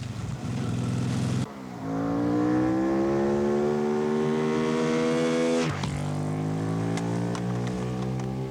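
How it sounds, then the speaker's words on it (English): A motorcycle speeds along a residential road, its engine roaring loudly and close, pitch climbing steadily through gear changes as it accelerates away. "heard the motorcycle roaring away"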